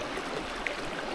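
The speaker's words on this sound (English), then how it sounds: "Look at this beautiful creek by my campsite at Vidette Meadow." A creek flows beside a campsite at Vidette Meadow on the John Muir Trail, a steady close rushing wash of water with one faint brief tick partway through.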